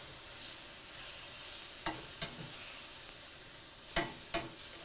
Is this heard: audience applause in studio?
no